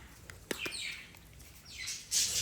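Small birds chirp indoors, a few quick scattered tweets and squeaks at moderate distance over a quiet room background, ending with a brighter, louder trill.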